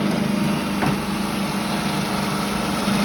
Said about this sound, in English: I'm going to blitz now. This is where it's going to get noisy. And we're going to add in some of these toasted pine nuts.